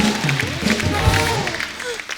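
Studio audience applause and cheering on The Kapil Sharma Show, a loud, continuous burst of clapping and crowd noise with a voice briefly rising above it.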